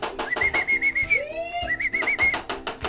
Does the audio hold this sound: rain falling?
no